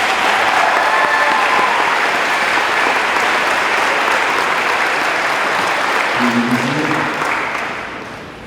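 A large crowd at a high school graduation ceremony applauds steadily and loudly for several seconds before the clapping fades out.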